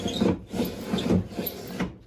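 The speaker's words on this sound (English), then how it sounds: "as I was rolling the window up and down, there appears to be a tooth missing here on the window regulator" A 1969 Plymouth Road Runner window regulator with a missing gear tooth grinds and catches as the window is cranked, producing repeated rough rasping strokes with brief pauses between them, close-up and moderately loud.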